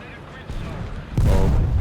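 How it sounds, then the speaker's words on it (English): A huge bomb detonates in War Thunder tank combat, a deep, heavy boom swelling up loud and close near the end, under a player's excited voice. "Oh, mega bomb."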